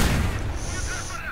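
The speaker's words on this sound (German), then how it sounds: "Ui, das war ein harter Schuss." A tank cannon shot lands as a hit in the War Thunder video game, giving one heavy, booming impact that fades into a rumbling tail over a little more than a second.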